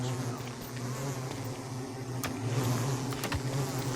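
Bees in a video game bee area drone in a steady, continuous buzz, close and even, with a couple of faint clicks near the end and no speech.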